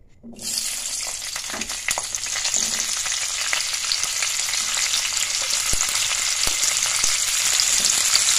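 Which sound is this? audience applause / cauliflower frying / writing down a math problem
cauliflower frying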